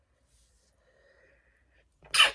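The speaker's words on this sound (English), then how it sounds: "Whew, just sneeze." A single sharp sneeze bursts out near the end after a quiet stretch with faint breathing, loud and close.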